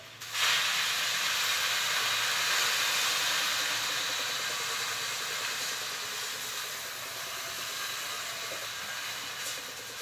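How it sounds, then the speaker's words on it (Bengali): A loud, steady hiss starts abruptly and continues throughout, slowly easing a little, as water is poured into a very hot karahi. "এবারে আমি এতে জল দিচ্ছি।"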